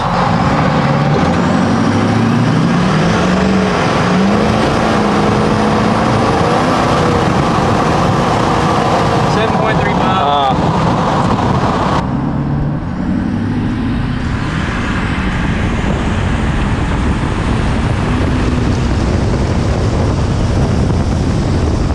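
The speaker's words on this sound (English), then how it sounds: "one more 0-60 two-wheel drive" A Ford 6.4L Powerstroke diesel truck fitted with very large turbos accelerates from 0 to 60 in two-wheel drive, a loud, close engine roar climbing in pitch through the gears with wind buffeting throughout.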